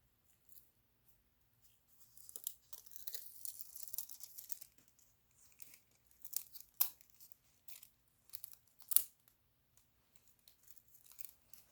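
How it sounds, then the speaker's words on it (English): Foil pressed and smoothed over cured glue on a painted rock, giving light crinkling and tearing rustles in scattered bursts with a few sharp crackles, close and quiet with no talk. "I'm going to apply the foil to where I just cured the glue."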